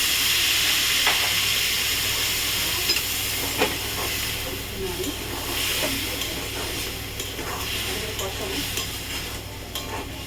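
A spice paste of cumin and coriander powder for a potato and egg curry sizzles and hisses as a little water is added, with steady crackling and occasional stirring scrapes.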